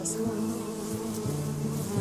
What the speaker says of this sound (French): Tu remets les abeilles sur la ruche.